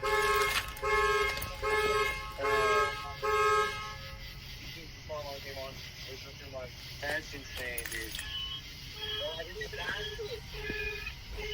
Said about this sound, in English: Was that you that just turned on the alarm?